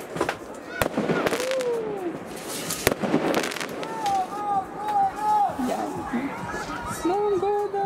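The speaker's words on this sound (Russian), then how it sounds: "Салюты в разгаре." New Year fireworks bursting outdoors, with sharp cracks and booms scattered throughout and a steady crackle beneath, while several people talk and exclaim over the noise.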